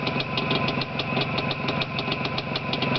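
A restored vehicle engine, Project 559, idles steadily in Valmiera with an even, rapid knocking pulse, close and loud throughout with no voices.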